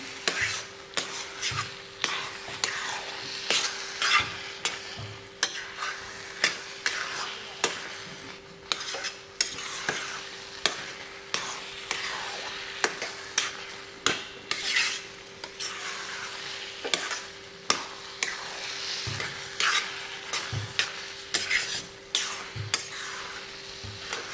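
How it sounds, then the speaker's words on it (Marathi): A spoon stirs and scrapes carrot halwa in a pan as it is sautéed, with steady rhythmic scraping strokes and soft frying under a constant low hum, close and unbroken for the whole stretch. "अजून 1-2 मिनिट मी व्यवस्थित परतून घेते. पण कंटिन्यू हलवत राहायचं."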